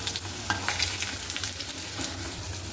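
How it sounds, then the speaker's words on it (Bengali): Bitter gourd and pumpkin slices fry in a pan of oil, giving a close, even sizzle broken by a few short scraping and stirring clatters, with no one speaking. "উচ্ছে কুমড়ো ভাজাটা আর কি হচ্ছে, এটা একটুখানি হোক কড়া কড়া মতো, মানে কুমড়োগুলো একটু ভাজা ভাজা হোক"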